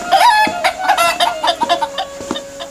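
A chicken clucks in a quick series of short, close calls, several sharp pulses in an uneven rhythm, loud and clear with no talking over it.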